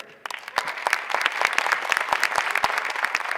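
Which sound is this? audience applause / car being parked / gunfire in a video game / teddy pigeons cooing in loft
audience applause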